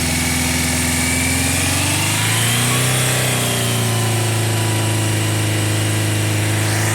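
A Honda CB650 Nighthawk motorcycle engine runs on its first start after a carburetor overhaul, a loud, close, continuous buzzing drone whose pitch rises briefly midway before settling into a steady idle.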